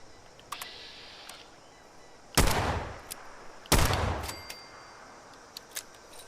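Two loud, sharp gunshots from a rifle in the video game Fallout 76, fired a little over a second apart, each with a brief decaying tail over quiet ambient background.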